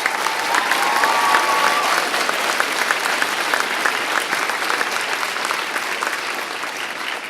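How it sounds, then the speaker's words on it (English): A crowd at a fire academy graduation applauds the new firefighters with loud, dense, steady clapping that fills the whole stretch and fades slightly toward the end. "Ladies and gentlemen, a big round of applause for Hampton's new firefighters."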